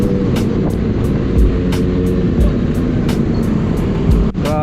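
Heavy road traffic crawls along Coastal Road near Pote Public Market in Cavite, a dense, steady roar of engines and passing vehicles close by with no clear pauses.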